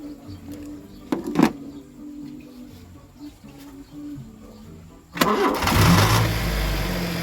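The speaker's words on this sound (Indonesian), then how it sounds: "Kemudian kita hidupkan mesin." Honda Jazz GD3 automatic car engine cranking and catching, then settling into a steady idle, preceded by quiet ambience with a few faint knocks and bird calls; the start is abrupt and fairly loud.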